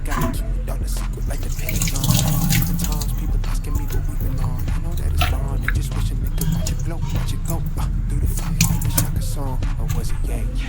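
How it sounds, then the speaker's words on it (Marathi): Running tap water splashes steadily over hands being washed in a home kitchen before cooking, a continuous close wash throughout with speech over it. "सर्वात पहिला मी हात धुवून घेतो."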